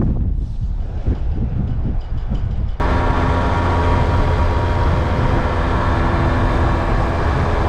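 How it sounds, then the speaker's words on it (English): Strong gale-force wind buffeting the microphone on the Antrim coast by a small harbour, first gusting and uneven, then a sudden loud, constant roar of wind noise that swamps everything for the rest of the time. "It's absolutely blowing a gale here."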